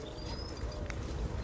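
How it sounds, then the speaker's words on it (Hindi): Small birds calling from trees in a forest, faint chirps and a thin whistled note against a low rumbling background, no talk. "छोटे पंछी की आवाज़ आ रही है, पेड़ों में बैठे हुए।"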